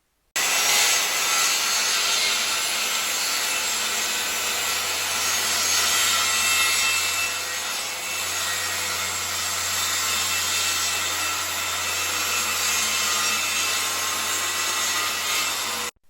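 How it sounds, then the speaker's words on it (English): Circular saw cutting diagonally through hardwood plywood: one long, continuous loud whine and rasp of the blade biting wood, steady throughout after a sudden start, ending abruptly as the cut finishes. "cut this hardwood plywood into 4 pieces diagonally, from both ends"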